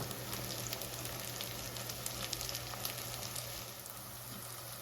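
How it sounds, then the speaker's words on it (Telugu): Onions and ginger-garlic paste fry in a pressure cooker with a steady, dense sizzle and crackle that holds close and even throughout, with no voices over it. "ఇందులో 1 టీ స్పూన్ అల్లం వెల్లుల్లి పేస్ట్ యాడ్ చేసి దీని పచ్చివాసన పోయేంత వరకు బాగా వేయించుకుందాం"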